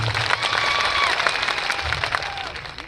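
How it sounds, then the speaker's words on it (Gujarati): A crowd at a political meeting in Kavant claps together for workers, media and police, a short burst of applause with some murmuring voices mixed in. "એકવાર આપણે જોરદાર તાળીઓ પાડી લઈશું"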